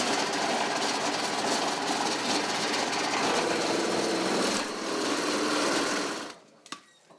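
A power drill bores a hole into a wooden base for a dressing mirror. It makes a loud, steady, continuous whir for about six seconds, then cuts out, leaving a few faint knocks.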